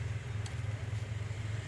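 A 1976 Datsun 280Z built as a hot rod, its engine running with a steady low, throaty drone that holds even and unbroken, fairly close and with no talk over it.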